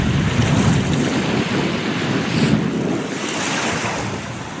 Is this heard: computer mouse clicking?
no